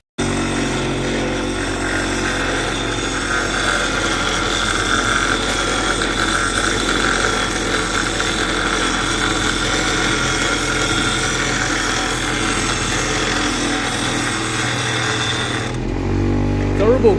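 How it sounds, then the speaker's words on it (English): An angle grinder cutting a part off a Triumph Spitfire, a steady loud whining grind that holds for about sixteen seconds and then cuts off abruptly. "I'll grind that off."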